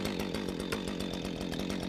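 A chainsaw runs steadily at speed close by, its engine giving a continuous rough, pulsing whine with no pauses, and no talking over it.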